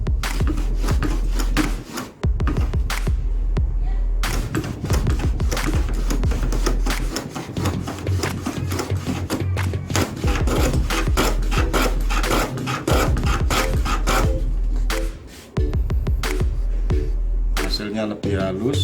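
A hand plane takes light shavings along a wooden board edge in a rapid series of close, rasping strokes with short gaps between them, while someone talks over the work.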